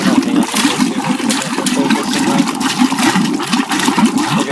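Thick, syrupy slime-like water pours steadily out of a container, a continuous close splashing gurgle like a flushing toilet, loud and unbroken with no talking.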